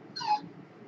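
Dog whimpering in the background, a single short high whine rising and fading within a second, faint and alone with no talk.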